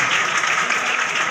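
Dense, steady applause from a seated audience at a felicitation ceremony honouring Urdu-medium SSLC toppers, a continuous wash of many hands clapping at an even, fairly loud level throughout.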